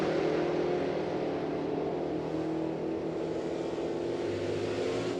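An Oldsmobile and a Dodge Challenger launch side by side at a drag strip, their engines making a loud, steady, continuous roar that holds for the whole stretch with little change in level.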